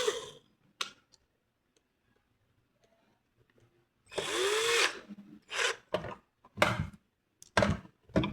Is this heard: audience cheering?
no